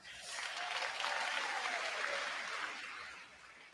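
A crowd applauds graduates at a school graduation ceremony, a steady wash of clapping from many hands that holds for a few seconds and then tapers off toward the end.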